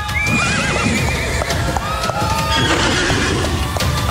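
Horses gallop with steady clip-clop hoofbeats on a television competition show, accompanied by repeated loud whinnies and neighs over a dense, continuous background of movement.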